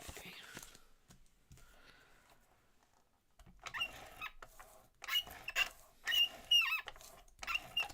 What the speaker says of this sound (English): My tape is squeaky. I got the squeaky tape.